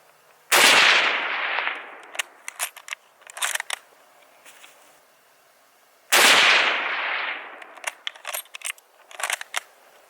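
Two loud 8mm Mauser rifle shots ring out outdoors, each a sharp blast with a long fading echo, followed by light metallic clinks and rattles from the bolt action.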